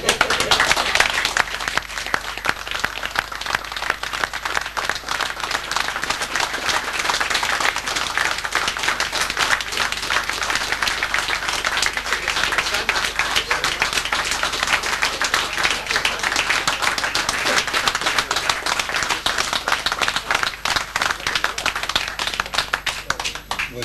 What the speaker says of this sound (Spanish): Ya vamos a aplaudir.